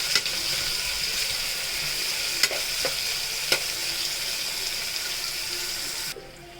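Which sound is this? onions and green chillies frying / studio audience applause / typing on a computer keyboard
onions and green chillies frying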